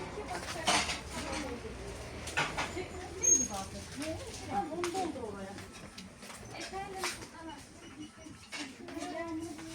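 Ceramic snack plates clink and clatter as they are handled at home, with scattered knocks under near-continuous conversation.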